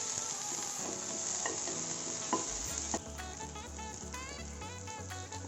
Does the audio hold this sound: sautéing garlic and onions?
yes